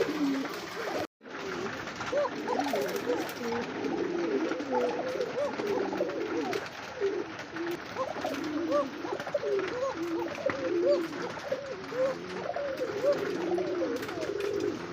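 Male pigeons being sold as pairs at a farm coo repeatedly in steady, rolling bursts close by, with a brief gap near the start and faint background noise throughout.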